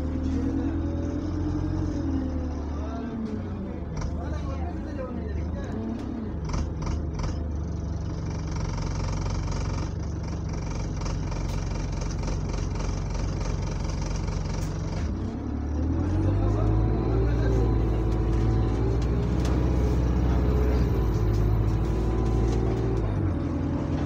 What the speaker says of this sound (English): This bus is ready to depart.